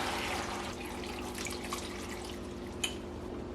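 Water pours steadily into a soup pot already holding cauliflower, butternut squash and vegetable bouillon, a continuous soft splashing trickle at moderate distance with one small splash near the end and no talking.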